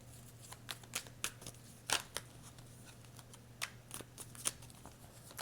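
Playing cards being shuffled, a quiet close series of crisp flicks and riffles with irregular pauses, over a faint steady hum and no talk.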